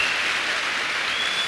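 Audience applause at a live event in Punjab, a steady dense wash of clapping filling the whole moment at even loudness, with no voices over it.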